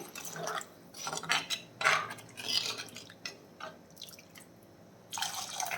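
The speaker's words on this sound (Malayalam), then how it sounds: "ഞാൻ ചൂടുവെള്ളം ഇതിൽ ഒഴിച്ചു കൊടുക്കുകയാണേ" Hot water being poured into a simmering fish curry in a pot, heard as intermittent splashing and trickling bursts with clinks, fairly close and moderately quiet, no voices.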